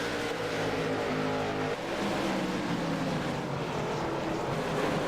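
Race cars roaring around a dirt oval track, a dense, steady engine drone with several cars running together at a constant loud level and no break.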